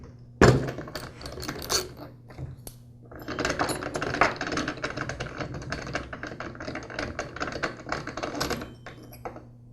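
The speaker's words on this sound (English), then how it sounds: "use a socket wrench to remove it" Socket wrench working loose the reverse-threaded clutch on a chainsaw, giving a sharp metallic clack followed by a long run of rapid, dense ratcheting clicks and rattles close by, with no talking.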